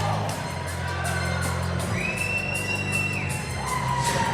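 A Pueblo crowd cheers and roars for a fighter's walkout at a Colorado Combat Club MMA event, a loud sustained wall of noise with whoops rising above it and walkout music running underneath.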